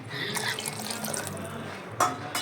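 Water pours in a steady rushing stream into a pot, close by, with a brief splashy surge near the end.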